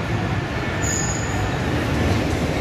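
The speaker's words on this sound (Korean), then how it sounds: "여기 박나 스테이션에서 전철을 기다리고 있습니다." Metro train at Bang Na station in Bangkok, a loud continuous rumble of wheels and rolling stock with a brief high squeal partway through, heard from the platform.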